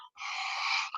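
A single sharp, breathy sneeze burst lasting most of a second, close and fairly loud, with a short quick inhale just before it.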